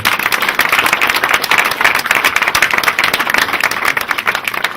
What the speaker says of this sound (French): Elle mérite des applaudissements pour toute cette femme.